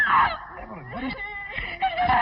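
A bird honks in a 1944 film, with several loud nasal goose-like calls rising and falling over roughly two seconds, mixed with a voice.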